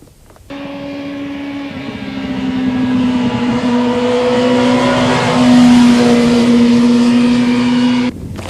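A motorcycle engine revs hard under throttle through a corner, a loud, sustained drone whose pitch climbs steadily for about eight seconds, with no talking.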